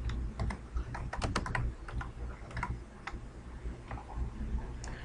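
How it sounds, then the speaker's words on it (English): Rapid typing on a computer keyboard while entering text in a graphic design program, with a close, uneven run of light clicking keystrokes and a few louder taps throughout. "go ahead and type New York"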